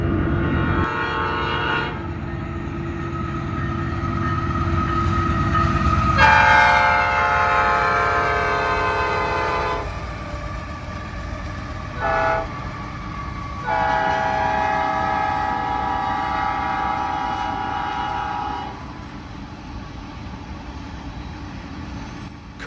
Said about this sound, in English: Currently, an empty grain train headed for Eastport, Idaho, to be interchanged with the Canadian Pacific is hustling by.